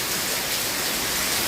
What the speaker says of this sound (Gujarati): મુસળધાર ભાઈ વરસાદ